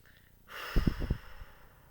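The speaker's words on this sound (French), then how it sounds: "Allez, on reprend une respiration." A single deep breath, a soft intake followed by a longer, louder exhale with a breathy, sighing release, heard close and alone during a calm guided energy-healing session.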